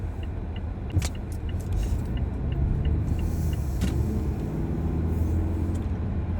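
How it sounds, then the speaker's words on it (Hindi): A car drives along with a steady low engine and road rumble, close and continuous, with a few small clicks and rattles inside the cabin and no talking. "गाड़ी चला ले अब हम"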